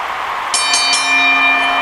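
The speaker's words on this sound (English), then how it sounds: "As the bell rings" A wrestling ring bell at a WOW Halloween in Hell 2023 show rings three quick, bright dings in a row, ringing clearly over a low crowd hum.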